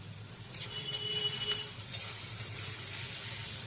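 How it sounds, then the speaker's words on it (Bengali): Carrot, onion and chili fry in a pan with a soft, steady sizzle, and occasional scraping stirs break through it at a modest distance. "ভালো করে আমি ভেজে নেব।"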